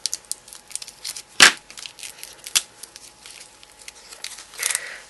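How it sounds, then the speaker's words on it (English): Sticky tape peeled off a paper pattern in a craft project, with one sharp close rip and a brief second tear among small crinkles and handling taps, with no voices. "Take the sticky tape off there."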